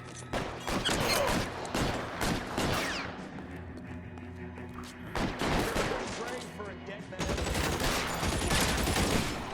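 Rapid bursts of machine gun fire in the game L.A. Noire, dense loud volleys that pause briefly then resume, with a voice talking over the shooting.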